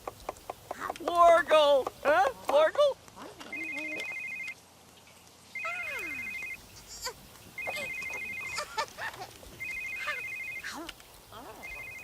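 In The Sims 3, a game telephone rings in repeated short electronic trills, each burst about a second long and evenly spaced, under someone talking and making playful animal-like vocal sounds.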